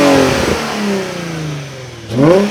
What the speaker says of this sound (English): Let me get one or two revs.